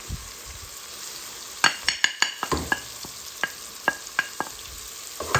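Spinach and potato curry (aloo palak) cooks in a pan with a low steady sizzle, broken by a run of sharp spoon scrapes and clinks against the pan as it is stirred, close and clear.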